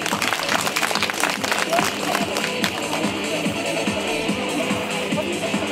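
An audience at a dog demonstration in Varsány claps steadily outdoors, a spread of many hands beating in a loose, busy rhythm for several seconds, with a voice faintly audible beneath.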